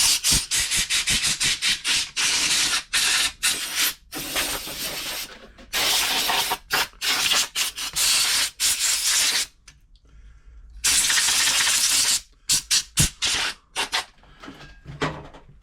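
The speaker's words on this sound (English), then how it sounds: "there's a lot of fluff under here. I'm going to blow this out." Compressed air hisses in repeated bursts as fluff is blown out from under the mechanism of a Toyota Oekaki RS2000 sewing machine during a service, close and loud, with short gaps between blasts.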